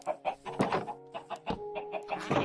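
Chickens in Minecraft cluck in a rapid run of short calls, close and clear with nothing else under them.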